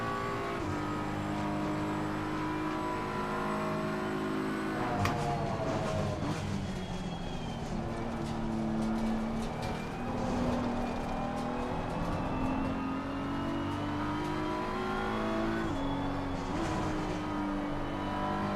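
Ferrari GT race cars in Assetto Corsa Competizione drone steadily, engines rising and falling in pitch through gear changes, with a sharp shift or bump at one point and continuous tyre and wind noise.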